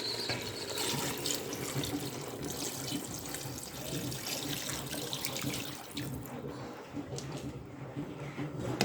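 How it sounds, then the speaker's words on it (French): Tap water pours steadily into a pot while Moroccan couscous is being cooked, a continuous close rushing stream that thins slightly near the end. "Là, maintenant, je vais rajouter de l'eau"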